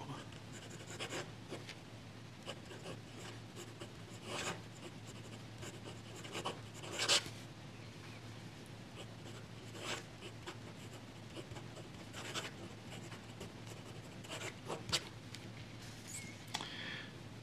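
A fine-nib Pilot fountain pen writing on lined white paper, faint close scratching strokes with brief pauses and a few sharper ticks, quiet and steady over a low background hum.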